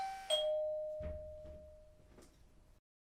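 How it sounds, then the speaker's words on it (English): House doorbell ringing indoors in an animated children's story: a clear ding tone followed by a few softer chiming strokes that fade away, then silence. "house bell rings"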